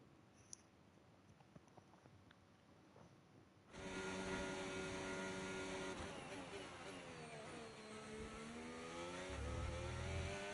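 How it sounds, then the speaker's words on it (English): After a quiet start, a Formula 1 car engine from an F1 racing game roars in and holds a loud high whine with shifting revs for the rest of the stretch. "The engine sounds completely different."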